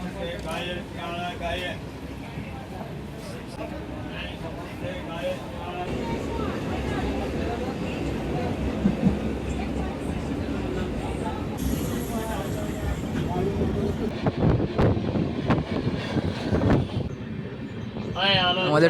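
The 12704 Falaknuma Express, Secunderabad to Howrah, pulls out of Balasore station with a steady rolling rumble and rattle from inside the coach that grows busier as it gathers pace, with voices now and then.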